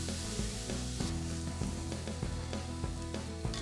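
Tomato halves searing in a very hot pan, a dense steady sizzle and hiss with scattered crackles and small knocks, close and continuous, with no talk.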